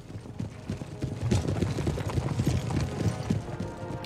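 Cavalry horses moving across a battlefield in the strategy game Empire: Total War, a steady patter of overlapping hoof clip-clops at mid distance, continuous and dense throughout.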